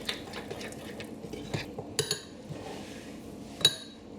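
Masala paste being mixed with vegetable oil in a bowl for roast beef, heard as quiet scraping and stirring with a few sharp clinks of a utensil against the bowl, close and alone with no talking.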